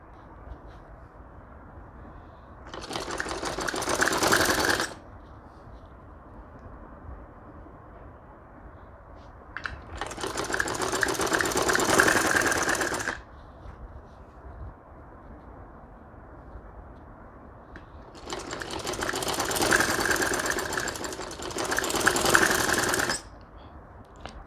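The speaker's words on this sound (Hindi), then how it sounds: "फ्रंट की साइड जब आप स्टिचिंग कर रहे हैं डोरी पाइपिंग की" Sewing machine stitching dori piping onto a kurti runs in three bursts of steady whirring, each a few seconds long and separated by pauses with low background hum, close and moderately loud with no speech.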